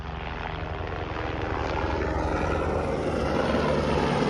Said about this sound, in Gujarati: हेलीकॉप्टर ये जो है ना ये फिर से जा रहा है